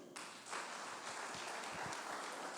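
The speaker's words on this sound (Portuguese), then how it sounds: "As palmas para o Senhor." A church congregation claps for the Lord during a sermon, a faint, continuous wash of many hands heard from a distance with no voices over it.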